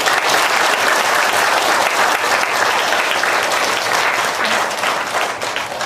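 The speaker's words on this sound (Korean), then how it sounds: "감사하는 마음으로 영광의 박수 한번 보내드리겠습니다." Loud, sustained audience applause at a summer church retreat sermon, dense clapping from a large crowd that continues steadily throughout without a break.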